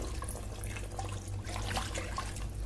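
Water is poured from a small pot into chicken sambar being cooked, a steady continuous splashing pour lasting a few seconds with no talking.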